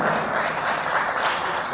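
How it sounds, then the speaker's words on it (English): A room full of guests at a book review event applauds a senior guest, a brief, continuous burst of dense clapping at fairly close range with no speech. "Let's give him a hand,"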